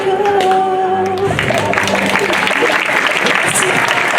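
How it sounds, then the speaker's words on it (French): A radio singing-contest audience applauds a singer with dense, steady clapping that rises as sung music fades out, with crowd noise underneath. "On applaudit bien fort Laetitia,"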